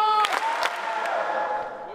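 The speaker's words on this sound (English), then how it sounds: "2 claps, 2 claps, 2 claps." A youth basketball camp group in Africa claps in short sharp bursts, close and lively, with voices ringing over the claps.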